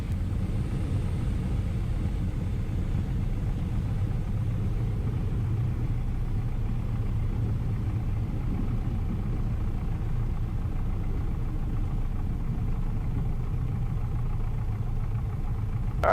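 Small airplane taxiing off the runway after landing, a steady low engine drone and cabin rumble heard from inside, constant and unbroken.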